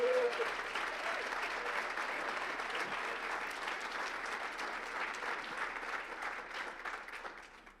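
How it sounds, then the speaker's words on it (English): Sustained audience applause at an annual chamber of commerce awards gala, even and full-bodied clapping from a large room that slowly fades toward the end. "Give them all a nice round of applause."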